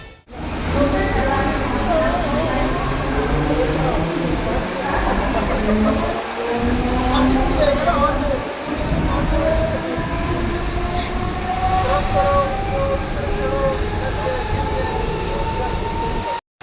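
A train rumbles past nearby at a station in Kalyan, with loud continuous rolling noise, rising and falling tonal whines, and occasional rhythmic clanks over the wheels.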